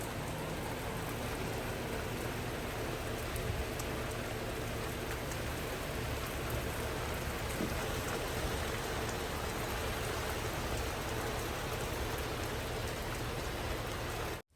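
Heavy rain pours steadily outdoors, a dense continuous wash of loud hiss and spatter that stays even throughout, with no voices and a sudden cutoff at the very end.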